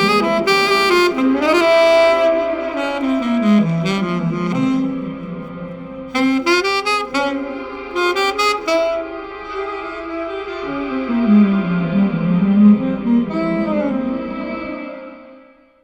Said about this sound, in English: I've taken that same impulse response, bit crushed it, and then used a reverb plugin to kind of create this reverse reverb wash that follows the impulse.